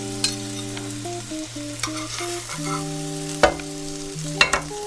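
Salmon laid in a hot pan of frying oil alongside potatoes and onions, a steady close sizzle with a few sharp clatters of utensils, under sustained background music.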